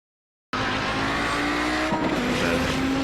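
An Audi 90 GTO race car in a video game, on the Road America circuit, downshifts into second gear: a loud, steady engine drone that kicks in abruptly and shifts pitch partway through, with faint tire noise.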